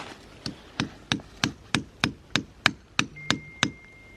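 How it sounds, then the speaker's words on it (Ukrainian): A steady series of about twelve sharp hammer taps on a hard surface, evenly spaced roughly every third of a second, close by. "Дай мені молоточок, будь ласка."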